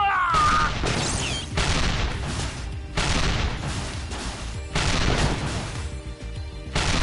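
Cannon fire in the mech game Assault Gunner, repeated heavy booming bursts in a steady rapid barrage, loud and close, with dense explosive crashes layered throughout.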